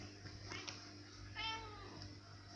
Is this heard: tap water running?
no